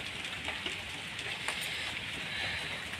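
Steady rain pours down in a continuous dense hiss with scattered heavier drops, close and fairly loud throughout, with no voices.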